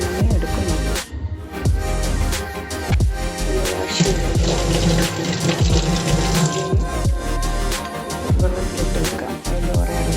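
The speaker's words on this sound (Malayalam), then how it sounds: "ആദ്യം കുടംപുളി എടുത്ത് കഴുകി വെള്ളത്തിലിട്ട് വെക്കാം." Malabar tamarind (kudampuli) pieces being rinsed in water for a Kerala-style fish curry, with steady splashing and running water, clinks of a vessel and a few dull knocks, close and continuous.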